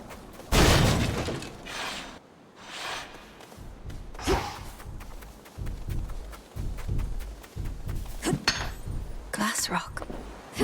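A glass rock shatters during a fight with Cerberus in Hades II, sharp crashing bursts and clinking debris amid combat thuds and effects, with a voice talking between them.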